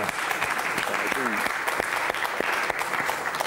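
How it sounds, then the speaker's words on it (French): Applause from a TV game show studio audience fills the clip with a dense, steady clatter of clapping, with a voice briefly heard underneath. "Applaudissements pour philosophe, Yarno qui a trouvé ces 7 lettres."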